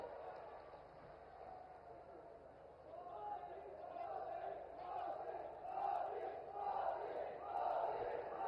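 A big outdoor political rally crowd roars and claps in a broad sustained wash that swells toward the end, heard from a distance through a public address system.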